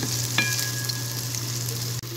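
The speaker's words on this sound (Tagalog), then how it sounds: "So, ito, atin muna siyang palalabasin ng mantika." Pork sautéing in hot oil in a pan, a steady bright sizzle with a low continuous hum underneath and a brief stir or scrape near the start.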